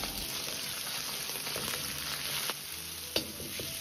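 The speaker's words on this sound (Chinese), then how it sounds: "先下入肉沫煸炒" Minced pork stir-fried in hot vegetable and sesame oil over medium heat, a steady dense sizzle with a few sharp spatula clanks against the wok near the end.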